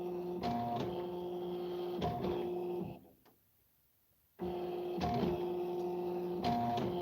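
Computerized embroidery machine tracing the outline of a design in embroidery mode, a close mechanical whir with rhythmic clicks and motor hum that stops briefly midway, then resumes.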